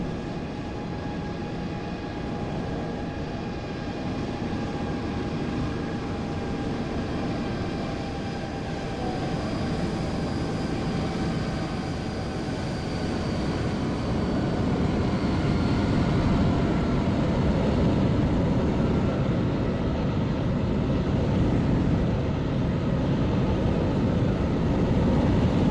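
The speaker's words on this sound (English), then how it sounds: "So, British Airways 777 in from Heathrow. We now watch as the Dubai 777 comes in." Boeing 777 airliners from Heathrow and Dubai arriving at Copenhagen in Microsoft Flight Simulator 2020, a loud, steady jet engine roar with faint whining tones that swells slightly as the plane nears.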